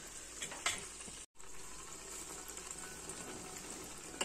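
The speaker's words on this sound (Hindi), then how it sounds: "टमाटर डाल के पकने के लिए रख दिया है" Tomatoes and tomato ketchup cook in a pan, giving a faint, steady sizzle and bubbling with a few small clatters and one brief cut to silence.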